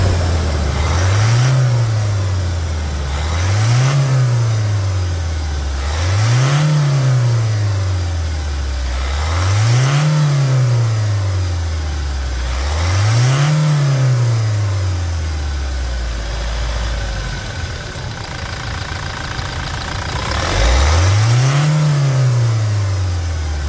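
A Toyota Hilux engine after a timing chain replacement, revved up and down in about seven steady, regular cycles, close and loud, with the idle holding between each rise.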